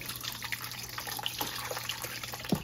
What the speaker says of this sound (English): pour it in my strainer